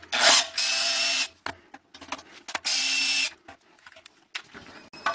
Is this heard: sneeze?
no